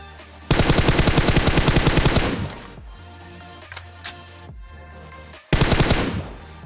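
Video game gunfire from teammates in a squad match, two long rapid bursts of automatic fire, loud and close, separated by a few scattered single shots and quieter game ambience.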